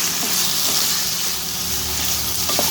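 Chicken and capsicum frying in a pan, giving a steady close sizzle with light clinks of stirring throughout.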